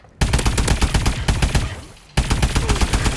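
The AE4 weapon in Call of Duty: Advanced Warfare fires in three loud, close bursts of rapid automatic shots. The first two run back to back, the second trailing off, and a third starts after a short pause.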